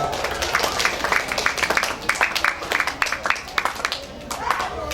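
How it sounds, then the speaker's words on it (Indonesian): An audience at a Quran recitation exam event for an Islamic children's school claps steadily and briskly for several seconds, with a voice speaking over it. "silakan dulu kembali tepuk tangan untuk Anda"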